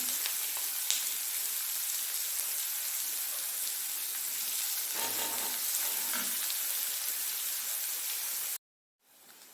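Sliced onion, ginger and green chilies sauté in a hot pan for Kerala-style aval upma, a loud, even sizzle that holds steady with faint stirring scrapes and then cuts off abruptly near the end.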